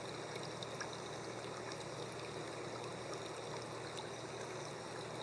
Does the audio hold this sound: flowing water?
yes